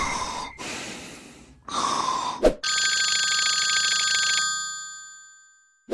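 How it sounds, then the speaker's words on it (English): A cell phone rings in a Minecraft video game with a bright electronic tone for a couple of seconds after some heavy breathing and a sharp gasp, then cuts off into silence. "A cell phone? Who would be calling me this late at night?"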